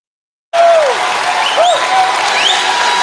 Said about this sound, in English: Both sides stand and cheer here as we start the fourth quarter